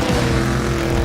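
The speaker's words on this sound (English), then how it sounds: "There's a lot of noise and commotion and wind and engines" Loud, dense engine roar and crowd commotion at the LS Fest West car show, with steady rumbling low tones and wind noise filling the whole stretch without a break.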